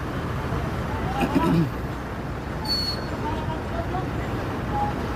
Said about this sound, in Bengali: আজকে এখানে কি পরিমাণ যানজট